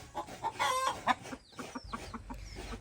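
Chickens cluck in short, repeated bursts, with one drawn-out call standing out, set against faint farmyard background noise.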